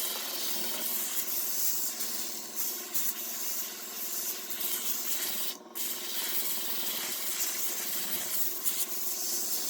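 Steady, continuous rasping of sandpaper rubbing across wood, close and even, with one brief pause near the middle.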